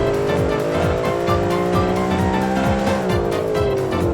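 Sports car in a video game accelerating hard off the line, engine revving up through repeated gear shifts with rising, stepping pitch, loud and close throughout.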